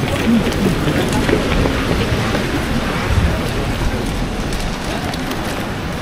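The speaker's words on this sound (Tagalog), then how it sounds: "Umuulan." Steady rain falls outdoors in a town in Germany, a loud, dense hiss of drops hitting surfaces that continues unbroken throughout, close and enveloping, with faint background murmurs.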